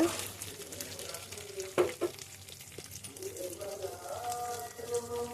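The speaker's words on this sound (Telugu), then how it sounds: "టమాటా పచ్చడి తయారు చేస్తున్నాను ఇలా బాగా వేగిన తర్వాత" Tomatoes frying in a pan for tomato chutney sizzle softly under stirring scrapes, with a sharp knock of the utensil partway through.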